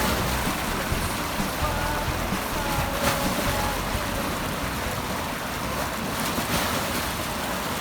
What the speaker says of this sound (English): Look at the water coming down in lumps there.